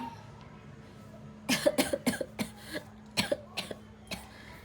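A burst of repeated coughs from someone with a fever, about a dozen in quick succession and then a few spaced out, close and fairly loud, with no talking.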